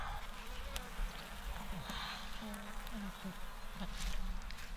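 Honeybees hum steadily across a hive frame where the queen sits, a dense close buzz with occasional louder passes near the ear, while a person talks quietly over it.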